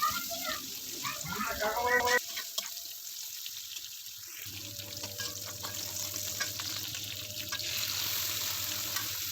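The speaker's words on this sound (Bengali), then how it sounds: "কিছু রসুন এবং পেঁয়াজ কুচি দিয়ে এটা আমি লালচে করে ভেজে নিব।" Bottle gourd greens fry with garlic and chopped onion in a pan, a close steady sizzle with stirring clatter at the start, then a quieter sustained hiss with a faint hum.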